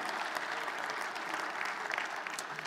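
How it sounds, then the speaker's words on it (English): Congregation clapping in church during a worship sermon, a soft, continuous patter of many hands heard from some distance, steady and even throughout. "Give him a clap."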